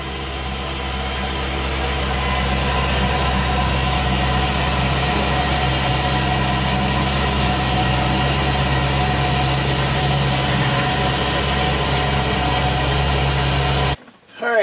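An LS-swapped Chevrolet C10 truck runs in gear, its engine droning steadily and loudly with a deep, even rumble until it cuts off abruptly at the end.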